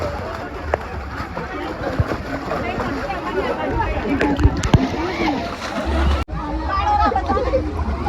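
Water splashes steadily at a summertime waterpark in Gujarat, loud and continuous, under excited voices and crowd chatter.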